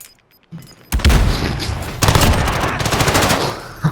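A silenced gun fires in a video game shooter, delivering loud, close, rapid bursts of gunfire that run almost continuously after a short quiet start, with no speech over them.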